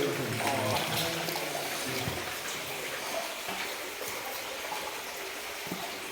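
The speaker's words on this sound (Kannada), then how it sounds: "ನೀರು ಹರಿತಾ ಇದೆ" Released water runs and gushes steadily, a continuous broadband rushing that stays close and even for several seconds, with faint background activity.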